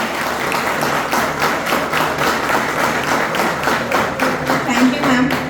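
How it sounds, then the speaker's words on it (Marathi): An audience at a thank-you ceremony claps steadily and loudly throughout, a dense continuous patter of many hands. "टाळ्या जोरात झाल्या पाहिजे"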